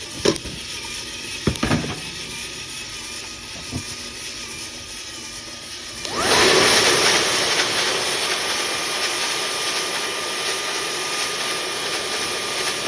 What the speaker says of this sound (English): we'll shut her down and turbo cool with a new precision blower here